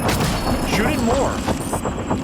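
Gunfire rattles in the video game Prey, a loud run of rapid shots and booms packed close together, with a voice briefly talking over the noise.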